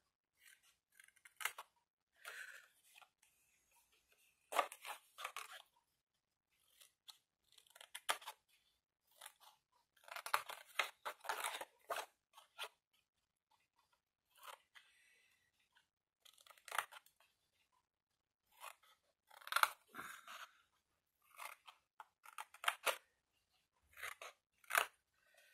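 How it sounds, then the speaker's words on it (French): Scissors make a series of short, crisp snips as they trim paper glue tabs, the cuts coming in scattered bursts separated by quiet pauses, close and clear. "Vous épointez un peu vos onglets de collage."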